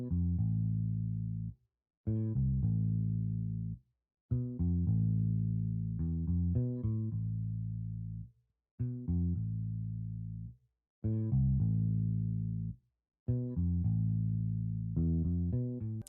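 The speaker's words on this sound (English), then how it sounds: "I had this Evolution flat-wound bass with the thick bass preset" Evolution flat-wound bass on a thick bass preset playing a simple root-note pattern, deep sustained notes in separate phrases with short gaps, loud and alone with no talking.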